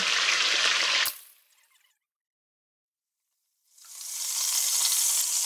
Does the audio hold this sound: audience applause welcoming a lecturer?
no